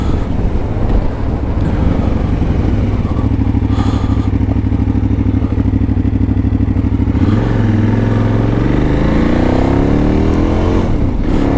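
KTM 990 LC8 motorcycle, a roughly 100-horsepower V-twin, running loud and close with a steady throbbing engine note, then revving up and climbing sharply near the end, with some wind buffeting.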